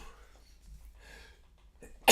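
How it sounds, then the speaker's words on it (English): A single sudden, loud sneeze bursts out at the very end during a tropical weather update, following a few seconds of near silence. "Oh, what a terrible time to start sneezing."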